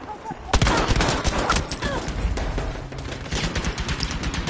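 Gunfire from the default gun in Battlefield V: a sharp burst kicks in and continues as rapid automatic shots in close, loud volleys, with game noise and some talk underneath.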